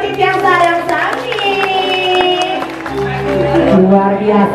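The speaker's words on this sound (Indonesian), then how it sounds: "penontonnya luar biasa dengan tepuk tangan" An audience claps at a Balinese calonarang performance in Bongkasa, with a steady patter of applause running beneath a loud announcer's voice and ringing tonal music.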